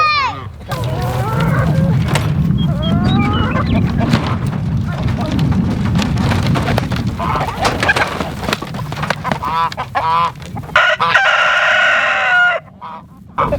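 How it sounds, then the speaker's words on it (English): Chickens and a goose out on fresh grass. Roosters crow and hens cluck and squawk repeatedly, close by, over a steady low background, with a person talking at times. "You can see this goose and these chickens, they're loving it."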